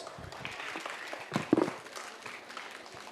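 School audience applauding to welcome a choir group at an Indian architecture themed event, a moderate wash of clapping with a few louder nearby claps, heard from a little distance.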